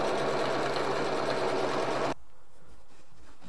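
A sewing machine stitches a custom surfboard bag with a loud, rapid mechanical whir close by for about two seconds, then stops abruptly, leaving a faint hum.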